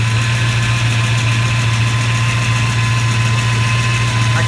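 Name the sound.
car engine idling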